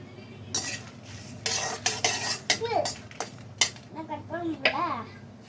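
Cluster beans are lightly frying in a pan for a peanut and cluster bean stir-fry, with clanking utensil strikes, scraping and stirring against the pan, and a faint sizzle running beneath a person talking.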